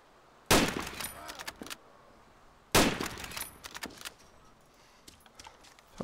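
Two loud, sharp sniper rifle shots ring out in ARMA 2, several seconds apart, each a sudden crack followed by a rattling echoing tail that decays over about a second.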